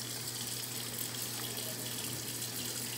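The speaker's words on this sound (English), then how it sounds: "turn down that hot ass water to warm water" A kitchen tap runs warm water in a steady, continuous stream at close range, with no talking over it.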